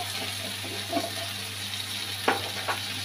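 Green chilies and chili powder fry in a pan with a low, steady sizzle, broken by a few soft clicks and stirring scrapes.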